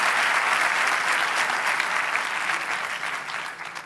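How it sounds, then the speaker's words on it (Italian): An audience at a talk breaks into applause: a dense, steady wash of clapping that holds for a few seconds, then eases off slightly toward the end. "Un applauso, in bocca al lupo."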